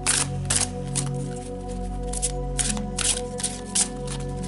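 Oracle cards from an angel-themed abundance deck are shuffled and drawn by hand, with several soft papery riffles and slaps in quick bursts over a steady low background hum.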